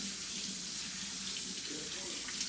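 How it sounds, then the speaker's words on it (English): Tap water runs steadily as hands are scrubbed and rinsed under it, a continuous close hiss of flowing water without pause. "just wash them again"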